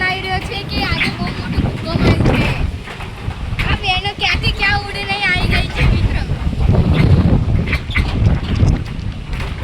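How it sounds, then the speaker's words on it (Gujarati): Strong storm wind gusting through a village, roaring steadily with loud buffeting against the microphone, while a person talks over it throughout. "પવન એટલો ભયાનક આવી રહ્યો છે, તમે જોઈ શકો છો"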